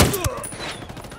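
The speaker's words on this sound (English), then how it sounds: "I'm opening fire." Rapid bursts of gunfire from the Ghost Recon Wildlands video game, several sharp shots fired in quick succession, loud at the start and trailing off.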